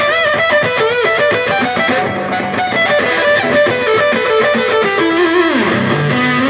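An electric guitar plays a fast lick through a Paramix pedal blending clean signal with full distortion, a thick, gritty tone, loud and close, ending on a bending note.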